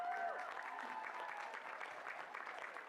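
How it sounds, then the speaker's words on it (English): An audience claps steadily at an award ceremony for a women's timbersports championship, a dense, continuous wash of applause heard from within the crowd. "give a big round of applause for Gillian Stratton, ladies and gentlemen."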